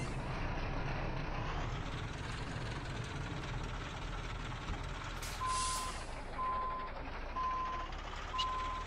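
A heavy truck in a driving simulator idles steadily while backing up to couple a trailer, with a brief air-brake hiss and evenly spaced reversing beeps sounding near the end.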